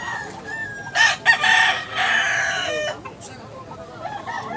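A two-year-old gamecock at a Cebu market lets out a loud, close crow, with clucking before and after it and soft background noise underneath.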